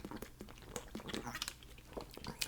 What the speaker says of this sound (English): That crunchy is an apple.